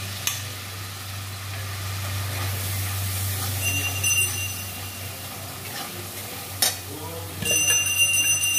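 Kashmiri chilli, coriander, turmeric and cumin powders crackle in hot oil in a pan, a steady close sizzle with a low hum beneath and a few sharp metallic clinks and stirring scrapes, with no talk.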